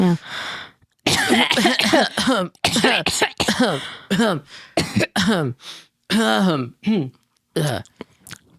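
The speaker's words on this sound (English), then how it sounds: "You want to get one last cough in there?" Repeated throat clearing and coughing sounds, close and loud, mixed with bursts of talking from more than one voice.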